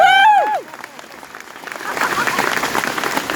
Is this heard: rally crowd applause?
yes